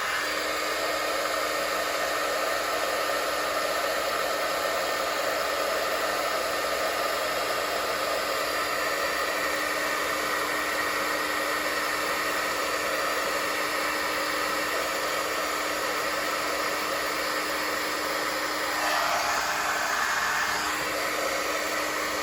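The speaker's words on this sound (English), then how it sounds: "And now I'm going to do the heat embossing, so it's going to get loud for a little bit." A heat embossing tool blows a loud, steady, continuous hot-air roar while melting embossing powder on a stamped card, running alone without any talk the whole time.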